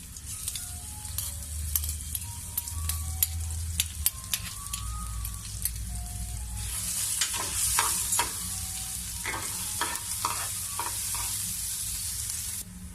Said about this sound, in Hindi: अब हम इसमें ये अदरक लहसुन का पेस्ट जो है वो शामिल करेंगे। इसे हम ब्राउन कर लेंगे।